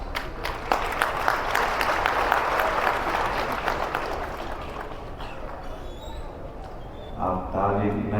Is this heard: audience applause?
yes